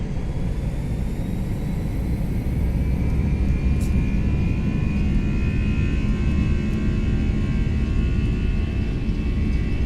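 Airbus jet engines spool up toward takeoff thrust with a loud, steady roar and a whine that rises slowly in pitch, heard from inside the aircraft with no talk.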